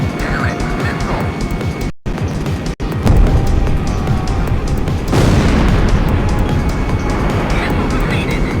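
A missile explosion in Ace Combat X, with an F-18E Super Hornet flying through heavy jet roar; a loud boom hits after brief dropouts, then a sustained rumbling blast over the engine noise.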